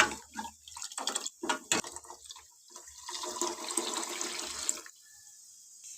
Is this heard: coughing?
no